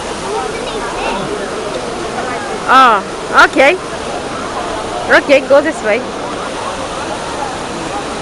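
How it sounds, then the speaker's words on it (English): Steady rushing water from a fountain in Rome fills the whole clip, a broad constant wash close by, while people talk over it in brief bursts. "Now let's go down the fountain."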